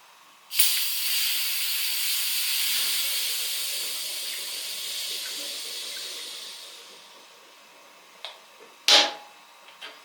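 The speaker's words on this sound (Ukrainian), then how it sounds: "Тиск стравили" Pressure is vented from a home autoclave cooking buckwheat with porcini mushrooms and pork ribs: a sudden loud steam hiss that holds steady for several seconds, fades, then short sharp spurts of hiss follow.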